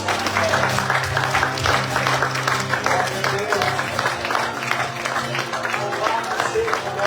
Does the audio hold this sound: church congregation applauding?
yes